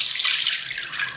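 Melted oils for hot process soap are poured from a container into a warm slow cooker, giving a close, continuous hissing splash and trickle that holds steady for just over a second.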